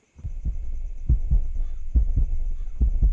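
A thumping video game heartbeat in a game built with Unreal Engine, steady double-beat pulses repeating about every second, loud and close with no talk over it.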